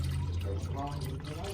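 Engine oil drains from a 2012 Hyundai Sonata in a steady trickling pour, a soft continuous liquid stream with a voice talking over part of it.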